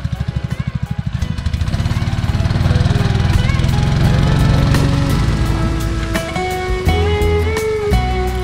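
The engine of a gold prospecting suction dredge starts with rapid pulls, then settles into a loud, steady, close-up mechanical drone that keeps running with slight shifts in pitch.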